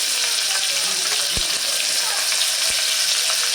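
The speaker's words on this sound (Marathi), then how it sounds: "हा उभा चिरून घेतलेला कांदा घालतीय" Lengthwise-sliced onion frying in a pan for masoor dal masala khichdi, with a steady, loud hiss of hot oil throughout and two dull knocks of a utensil against the pan.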